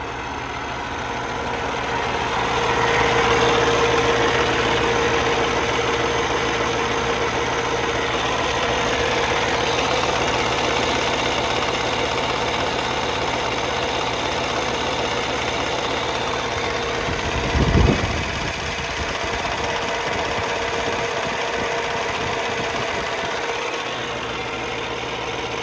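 A 2016 Volvo VNL670 truck with a Cummins ISX engine and 13-speed transmission idles steadily, a loud, even diesel rumble with a low knocking pulse and a brief louder disturbance partway through.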